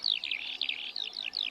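A Eurasian skylark sings over open fields, pouring out rapid, clear, high warbling phrases in quick succession, fairly close and loud, with no other sounds.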